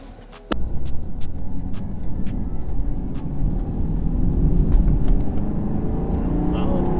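A Camaro SS 1LE with camber plates on a test drive, its engine and road noise rising from a quiet start into a steady, loud drone that builds slightly toward the end, with voices mixed in.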